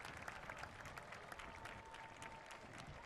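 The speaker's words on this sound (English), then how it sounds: "You can hear the applause from the crowd." Crowd applause at a varsity high school football game at Stryker Sports Complex, steady and somewhat distant, with a faint crowd murmur blended in and no voices standing out.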